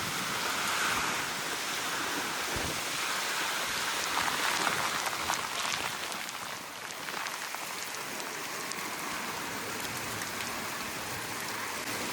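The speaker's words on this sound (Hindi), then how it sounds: "हाँ ये बड़ा वर्षा" Heavy rain falling during a motorbike ride around Nabarangpur: a loud, unbroken hiss of rain pouring on surfaces all around, steady throughout with no talk.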